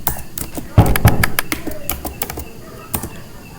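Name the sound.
typing a sudo command on a computer keyboard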